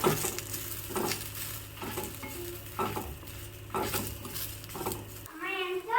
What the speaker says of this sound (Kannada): ಇದನ್ನ ಚೆನ್ನಾಗಿ ಹುರ್ಕೋತಾ ಇದ್ದೀನಿ ಈರುಳ್ಳಿ ಎಲ್ಲ ಚೆನ್ನಾಗಿ ಬಾಡಬೇಕು ಸ್ವಲ್ಪ ಕೆಂಪಗೆ ಅಲ್ಲಿವರೆಗೆ ಹುರ್ಕೋಬೇಕಾಗತ್ತೆ